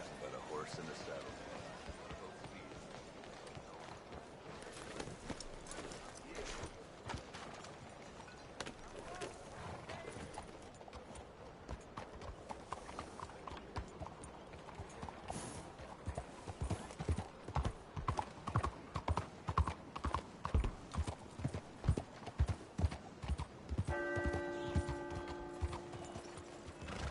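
Horse hooves in Red Dead Redemption 2 clip-clop steadily, then pick up into a loud, rhythmic gallop toward the end, over a bed of game ambience and mechanical rattling.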